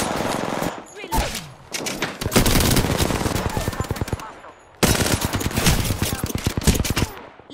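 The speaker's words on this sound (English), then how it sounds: "I'm getting shot at." Rapid automatic gunfire in the video game Apex Legends, loud dense bursts of shots rattling for several seconds, a brief pause, then another sustained volley close by.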